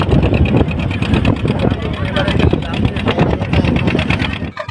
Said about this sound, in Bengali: দেখুন এইসব নৌকা কিন্তু সবই টাকির দিকে যাচ্ছে।